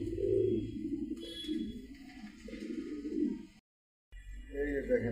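A pair of Rajgolla pigeons, one male and one female, coo in low repeated rounds from close by, while a voice talks over part of it and the sound breaks off briefly near the end.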